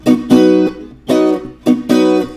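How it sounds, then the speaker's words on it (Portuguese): A viola caipira is strummed in a muted, choked cururu rhythm, Goiano style: three short, close harmonic bursts with brief gaps between them, each note damped quickly, with no talking. "O cururu do goiano soa mais ou menos assim"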